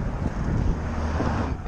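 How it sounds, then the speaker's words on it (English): Wind blows outdoors in a steady, loud rumble and buffets the microphone, with no talking. "It's a little windy outside."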